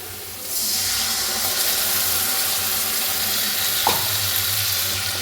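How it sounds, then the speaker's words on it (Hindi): Masala spices hit hot oil with garlic and ginger in a kadai, bursting into a loud, steady sizzle that holds without a break under a faint stir. "एक 2 राउंड मसाला भून के फिर टमाटर ऐड करेंगे"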